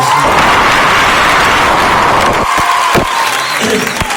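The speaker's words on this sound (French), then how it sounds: "On peut l'applaudir." Audience applause at a French film event, a dense, loud wash of clapping and cheering that fills the whole stretch before thinning near the end.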